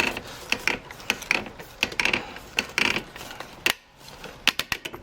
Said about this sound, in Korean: 우리 주유구 뚜껑 돌리는 것 같이 소리가 나거든요 따다다닥 하면서